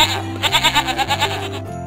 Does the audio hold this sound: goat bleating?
yes